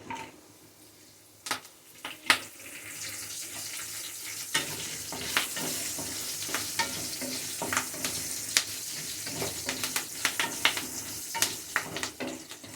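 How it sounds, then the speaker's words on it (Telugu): Curry leaves, garlic cloves, dried red chillies and green chillies sizzle in hot oil while being stirred, a steady crackling hiss broken by sharp spatters and frequent scraping stirs close by, with no talking. "ఇప్పుడు కాసింత కరివేపాకు, అలాగే 4 వెల్లుల్లి రెబ్బలు, 2 ఎండుమిరపకాయలు, 2 పచ్చిమిరపకాయలు,"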